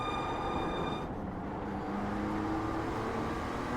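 A Porsche Cup type race car in the iRacing sim racing game gives a loud, continuous engine drone with a steady rushing roar that holds throughout, with no talk.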